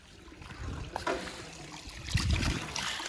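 Water runs from an opened hose pipe as a faint, uneven trickle and splash nearby, with soft bumps and outdoor noise and no clear talk.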